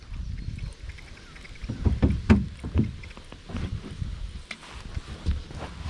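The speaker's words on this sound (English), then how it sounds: "Gonna adjust our kayak a little bit here." Kayak shifting on the water during fishing, with low hollow knocks and paddle or hull bumps, water sloshing and light wind noise throughout.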